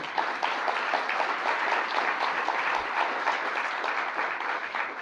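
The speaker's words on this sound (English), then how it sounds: "So a round of applause for the speakers," Sustained, dense applause from a conference audience in Toronto closing a speaker event, steady and full for the whole stretch with no talk on top.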